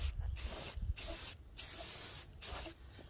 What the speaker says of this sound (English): you ain't even finished spraying it yet